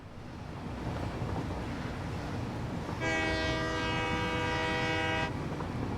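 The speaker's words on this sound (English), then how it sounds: "You only sound the horn at crossings?" A train horn in the video game Satisfactory blasts one long, steady, loud tone partway through, over a continuous rumbling rush of a moving train.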